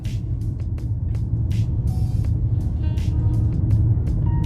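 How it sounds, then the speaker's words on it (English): Interior of a Mercedes-Benz car on the move, a steady low road rumble and engine hum filling the whole stretch, with faint clicks and brief hissy bursts over the top, no talk. "driving the new Jerrymobile"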